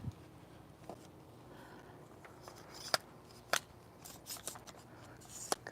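Garden scissors cutting back plants in a backyard garden, a handful of sharp, separate snips spaced irregularly against a quiet outdoor background.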